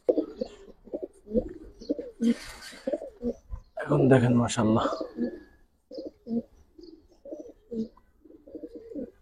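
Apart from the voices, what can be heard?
giribaz pigeons cooing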